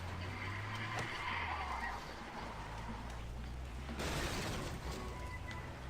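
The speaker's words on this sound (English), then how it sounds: "I hit a tree" In Far Cry 4, a car skids with squealing tires across the ground, the engine droning beneath, then a louder burst of scraping impact as it slams into a tree, fairly faint overall and without voices.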